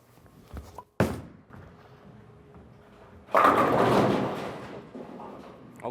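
A Columbia 300 Explosion bowling ball thuds onto the lane, then rolls with a long rumbling roar that swells into a loud crash of pins, heard nearby in a bowling alley without talk.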